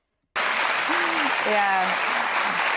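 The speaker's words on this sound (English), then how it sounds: "everybody's clapping like seals" Audience applause, a steady dense clapping sound that fills the whole stretch after a brief silence, loud and close, with a voice speaking over it partway through.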